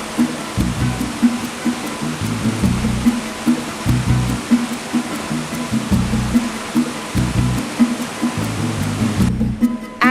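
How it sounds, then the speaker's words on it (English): A waterfall in Calubian, Leyte, seen up close, gives a steady, loud broadband rush of falling water that continues without a break for the whole stretch. A low, rhythmic pulsing runs underneath. "I was brimming with excitement at seeing a waterfall up close for the first time."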